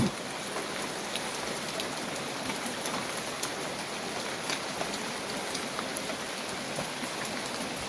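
Light morning rain falls over terraced rice fields at Pa Bong Piang in Mae Chaem, Chiang Mai, a constant soft hiss of drizzle with scattered nearby drips, steady and unaccompanied by voices.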